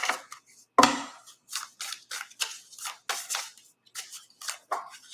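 Crisp bursts of tarot cards riffling and snapping, one sharp slap followed by quick repeated shuffling flutters, close up.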